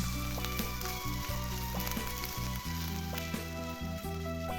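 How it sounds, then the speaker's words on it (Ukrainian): Chopped onion and grated carrot sizzling in oil in a pan, a dense continuous crackle with scattered sharp pops, loud and close, no voices. "Обсмажуємо цибулю та моркву"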